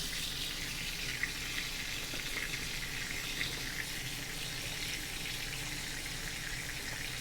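Garlic butter sizzles and crackles in a stainless steel pan around a prime ribeye steak, a steady close hiss that keeps going without a break and with no voices over it.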